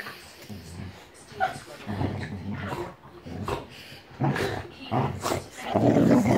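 A boxer dog growls and grumbles in low, throaty bursts, close up, with a person talking softly over it.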